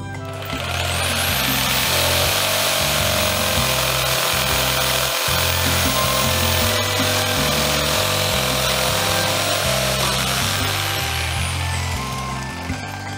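A jigsaw cuts steadily through wood while building a garden potting table, a loud, continuous buzzing rasp that runs almost unbroken, with only a brief dip midway.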